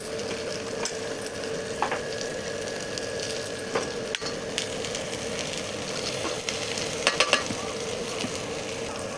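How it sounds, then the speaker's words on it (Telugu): Okra pieces frying in a tomato curry, a steady moderate sizzle with occasional clicks and scrapes of stirring, close by and without talk. "ఇప్పుడు ఈ టైంలో మనం బెండకాయ ముక్కలు అయితే వేసుకుందాం."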